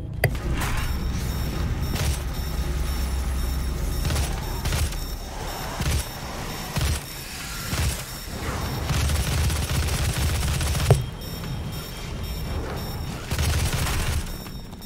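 Assault rifle gunfire in Doom, dense bursts of loud shots with heavy booming impacts and short pauses between volleys, continuing throughout.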